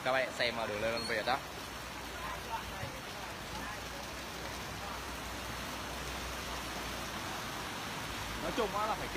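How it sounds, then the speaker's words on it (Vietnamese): Fast-flowing floodwater rushing over a road after heavy rain, a dense steady broadband roar throughout, with a voice talking briefly at the start and end. "Nước nó chảy xiết giống như là lòng sông luôn á."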